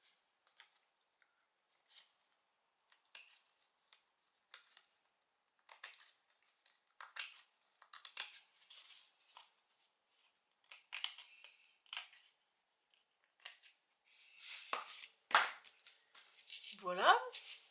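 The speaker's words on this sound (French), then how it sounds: "Moi je vais le découper." Scissors snip out a paper gift tag in a run of short, crisp cuts that come in irregular bursts, growing busier and louder toward the end, close by with no talking.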